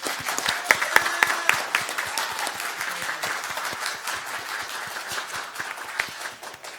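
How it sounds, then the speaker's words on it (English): A school board meeting audience applauds a newly named Coach of the Year, with dense, steady clapping from many hands in a room sustained throughout and fading slightly at the end. "we should give him a round of applause"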